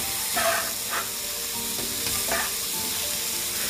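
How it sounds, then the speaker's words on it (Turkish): Mushrooms searing in a hot pan with no oil, giving a steady close sizzle and crackle with a few brief louder bursts of hiss, no talking. "Mantarları mühürleyerek kızartacağız."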